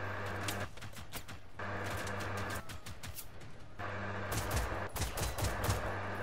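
A robot fires on the player in the video game Generation Zero, with bursts of rapid machine-gun-like gunfire breaking out in several volleys over a low, steady drone.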